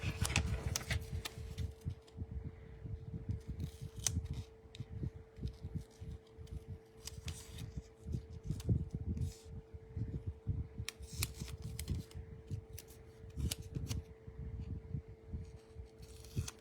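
Scissors cut paper close by during a monthly planner setup, giving repeated short snips and crisp rustles over a low, steady hum, with small handling noises between cuts.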